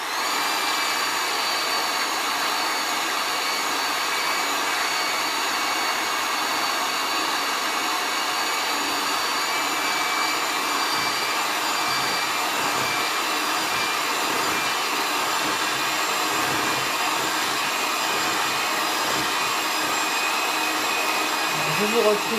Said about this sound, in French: je vais monter mes blancs en neige